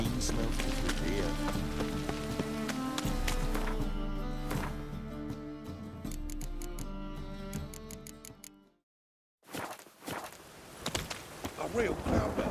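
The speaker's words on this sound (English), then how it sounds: "A real cloudburst." Heavy rain pours steadily under layered music in The Witcher 3, briefly cutting out near the end before returning with faint voices.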